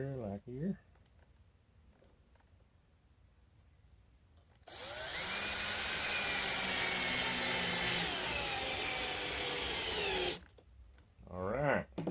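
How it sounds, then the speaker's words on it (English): A power drill drives a screw into wood, one loud continuous whir lasting about six seconds, with brief talk before and after. "And put a screw down here somewhere, like here."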